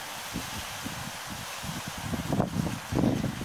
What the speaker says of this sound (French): Désolée pour le vent, il fait un peu froid